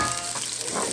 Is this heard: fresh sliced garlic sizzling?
yes